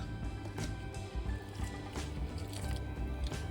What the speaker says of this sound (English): So we're adding 1 cup of coconut milk.